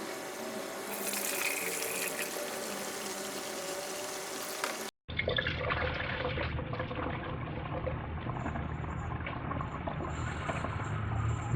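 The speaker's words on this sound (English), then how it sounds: "We're going to go ahead and start pouring the coolant." Dex-Cool coolant pours steadily into the 3.5L engine of a 2005-2010 Dodge/Chrysler, a continuous gurgling liquid stream that cuts briefly and resumes with a fuller splashing flow, close up.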